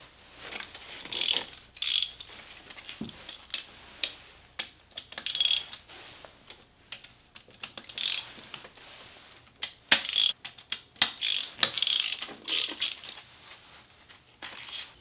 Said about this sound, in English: Undo the manifold bolts in a general star pattern.